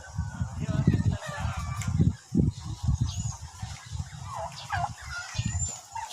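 Chickens on a family farm, a small flock left after a storm, cluck in steady, close, repeated bursts while people talk nearby.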